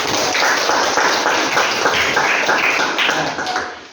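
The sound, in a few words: applause for classmates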